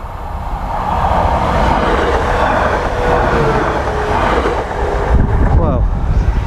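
A train rumbles past a nearby railway crossing with a steady, loud roar of rolling wagons and wheel noise, swelling slightly toward the end.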